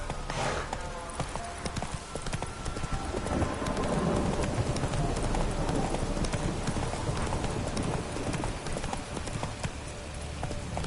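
Horse hooves gallop in The Witcher video game, a fast continuous clip-clop of close, loud hoofbeats running the whole time over a rain-like wash of ambient noise.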